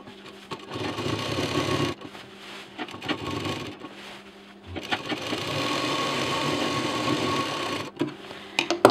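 A sewing machine stitching a shopping bag that has a wooden handle, running in long steady bursts with a brief pause, close and loud, with no talking.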